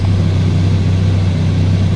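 A repaired Ferrari F430 engine idles smoothly and loudly close by, producing a steady low hum with an even, constant drone.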